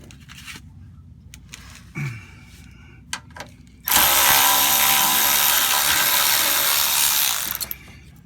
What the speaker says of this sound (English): here's a 10mm bolt you're gonna have to take off